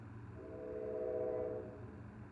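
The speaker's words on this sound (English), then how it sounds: "if you can hear the train in the background" A train passes somewhere in the background, its steady horn tone swelling and fading over a low rumble for about a second, moderately loud, with no talk.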